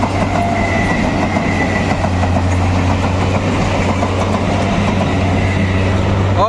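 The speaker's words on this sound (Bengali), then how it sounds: "সাইড থেকে বেরিয়ে যাচ্ছে লোকাল ট্রেন" A Ranaghat local train rolls past on the rail line near the Nashipur rail bridge, with continuous loud rumble, steady low drone and rhythmic wheel clatter lasting throughout, close by.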